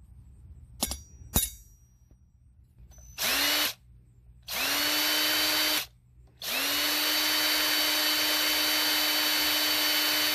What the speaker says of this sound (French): j'ai percé le tout finalement à l'aide d'une presse drill